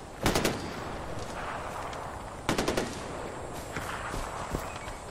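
Bursts of automatic gunfire aimed into trees in Far Cry 4, two loud clusters of sharp rapid shots with scattered single reports between them, over an outdoor backdrop with no talking.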